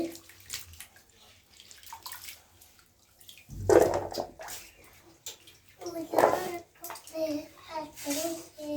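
Curry vegetables are washed in water with intermittent splashing, sloshing and pouring, while voices talk in between.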